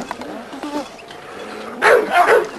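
A young dog about 17 months old in a rural yard gives a short run of barks near the end, after some quieter rustling and faint vocal sounds.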